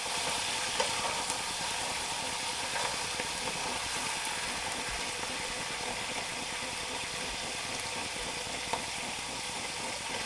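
White wine sizzling as it deglazes a hot pan of corn, lifting browned bits off the bottom, a steady dense hiss that holds evenly throughout with no talk.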